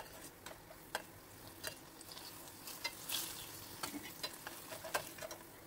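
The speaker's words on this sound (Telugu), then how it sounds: "ఒక్కొక్కటి వేసి వేయించుకోవాలి కాస్త వేగాక అప్పుడు మాత్రం అటు ఇటు తిప్పుకోవాలి" Chimmili Burelu sweets fry gently in a pan of oil, a faint steady sizzle with scattered light ticks and scrapes as they are turned.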